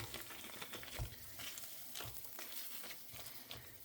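Four chicken burger pieces sizzle in a frying pan over medium gas, a steady, faint crackling hiss with scattered small pops, alone with no talk.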